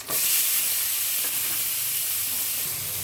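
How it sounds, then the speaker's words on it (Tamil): Onions sizzle steadily in hot oil in a pan, cooked until browning for a red sauce pasta; a continuous close frying hiss holds throughout with no talk. "இது கொஞ்சம் ப்ரௌன் ஆகிற ஸ்டேஜில் வெங்காயம் போடுறேன்."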